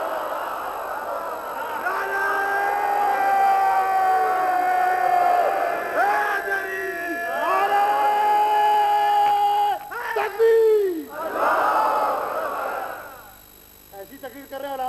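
A large crowd at a 2003 religious gathering with a cleric roars a chanted response to a slogan, loud and sustained with rising and falling voiced waves and several surging shouts, fading near the end.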